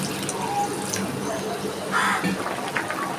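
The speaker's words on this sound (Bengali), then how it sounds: "জল দিয়ে দিচ্ছি" Water is poured into a pan of pointed gourd curry with rohu fish, making a soft splashing gurgle that swells near the two-second mark over faint kitchen background.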